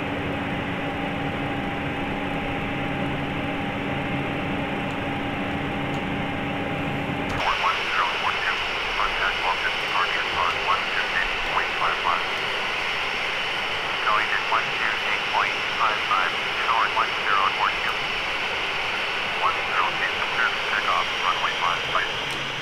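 Jet engines of a Ryanair airliner hum and whine on the runway before takeoff in Microsoft Flight Simulator, a steady mechanical drone. Its pitch shifts partway through, and radio-style voices talk over it.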